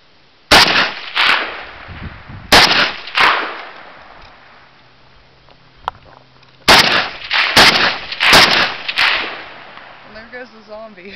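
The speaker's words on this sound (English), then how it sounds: "I told you, it's like one of my favorite guns." Sharp, loud AK-47 rifle shots fired outdoors in spaced bursts of single and double cracks, each followed by a brief echoing tail, with quiet gaps and faint voices between.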